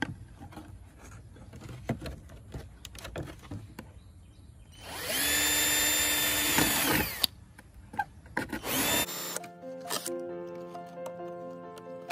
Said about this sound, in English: So I need to drill here.